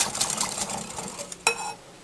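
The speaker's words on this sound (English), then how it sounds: "I might get the whisk out for this." A whisk beats coleslaw dressing of dissolved sugar in a bowl, a quick run of light metallic clicks and scrapes against the sides, fairly close and soft, with one sharper clink near the end.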